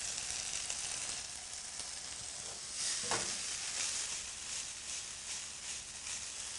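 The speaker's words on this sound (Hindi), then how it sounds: "इसको हम सिर्फ थोड़ा सा सौते कर रहे हैं, जी। टॉस कर रहे हैं।" About one and a half cups of sweet corn sautéing and being tossed in a hot pan for a Corn Green Pea Bhel, giving a continuous dense sizzle with one brief scrape or clatter midway, close and steady, no voices.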